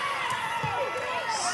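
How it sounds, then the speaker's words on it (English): Volleyball crowd at a pro League One Volleyball match cheering and shouting after a big kill, a steady broad roar of voices filling the arena throughout. "The crowd getting into it."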